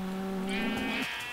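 A single sheep bleats in a video game, one wavering, nasal bleat with a low start rising into a higher quavering tone before cutting off, near and clear against a quiet background.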